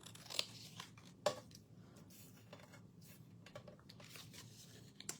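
Scissors trim the roof edge of a stamped cardstock birdhouse in a quiet room, giving a few soft, short snips and crunchy cuts, with two sharper clicks near the start.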